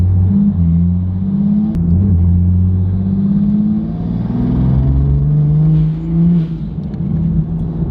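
An A90 Supra fitted with an HKS SQV blow-off valve revs loudly and steadily for several seconds, its engine note rising and falling in smooth sweeps close by, with no talking.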